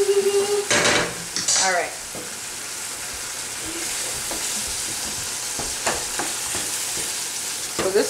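Chunks for lazy halupkis sizzle steadily in a pan on low heat while a utensil stirs and scrapes them, with occasional clatters. A voice speaks briefly at the start.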